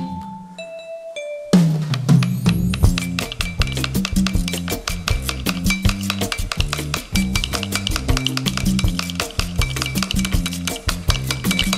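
A whisk scrapes and clinks briskly against a bowl, beating mustard, lemon juice and oil by hand into mayonnaise, in a fast steady rhythm after a few short ringing tones at the start.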